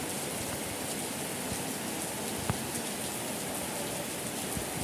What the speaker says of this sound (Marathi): पावसाने घातलाय धुमाकूळ कोकणा जगा केवढा पडतोय